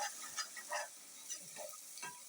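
Garlic paste lightly frying in a pan until brownish, a faint, soft sizzle with intermittent gentle stirring scrapes and clicks, no speech.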